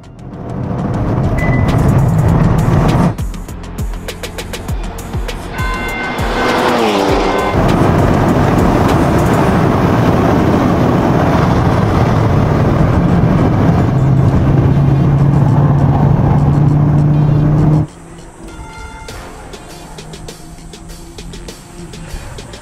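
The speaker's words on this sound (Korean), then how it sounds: "들어가자마자 바로 기록을 재기 위해 빠르게 달려본다." Scrapped race car being driven fast around a track, loud sustained engine roar from inside the car with rising and falling revs, a sudden drop in intensity near the end.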